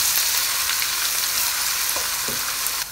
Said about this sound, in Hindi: अच्छे से हमने फ्राई कर लिया।